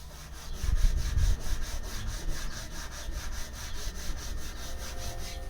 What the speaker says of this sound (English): now we are just finishing off the sanding to make her smooth